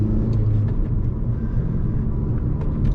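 Ktuner TSP Stage 1 tuned car with a K&N intake, its engine and exhaust giving a steady, loud low rumble throughout with no pauses.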